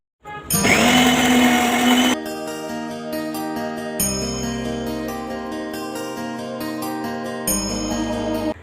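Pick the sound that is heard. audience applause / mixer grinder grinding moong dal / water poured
mixer grinder grinding moong dal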